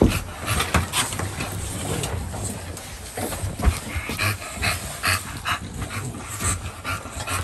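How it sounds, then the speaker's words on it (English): A dog pants in quick, steady breaths close by, with brief whimpers and faint background noise at a bully breed kennel. "Beautiful dog."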